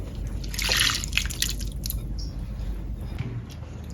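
Agar jelly poured into a drink with soaked basil seeds and small nata de coco, giving soft wet plops and drips, clustered loudest near the start and trailing into quieter liquid sounds.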